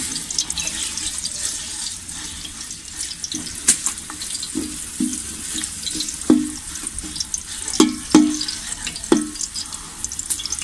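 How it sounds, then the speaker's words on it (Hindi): Garlic paste frying in melted ghee in a pan for chicken fried rice, a continuous hiss and sizzle with scattered louder pops and clatters. "अब हम इसमें लहसुन का पेस्ट डालेंगे। अब हम इसे फ्राई करेंगे।"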